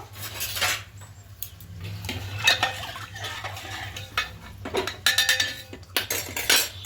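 Cooked rice tossed by hand with bay leaves and a little white oil for vegetarian jeera rice, giving soft clinks and scraping rustles against a metal bowl, with louder bursts of stirring near the end.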